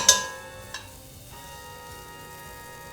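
A tablespoon of plant-based butter melting in a pan, a soft, thin sizzle after a sharp opening clink and a second brief tap, then settling into a quiet, steady hiss.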